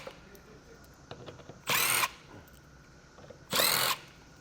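A power drill spins out T30 Torx fasteners under a 2023 Ford Escape, two short loud whirring bursts separated by quiet handling clicks.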